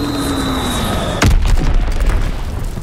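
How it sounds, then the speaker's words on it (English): A massive MOAB bomb explodes in a WW2 video game: a steady background gives way to one sudden loud blast that settles into a deep, sustained rumble lasting several seconds. "I'll just go ahead and bring this Moab"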